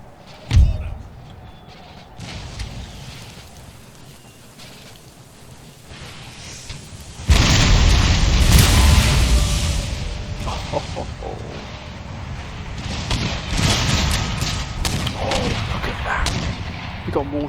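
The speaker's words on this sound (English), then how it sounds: "They've got mortars." Mortar and artillery barrage on a battlefield in Empire: Total War, starting with a sharp early thud, then erupting into loud, dense rumbling booms and crackle that roll on continuously like a storm.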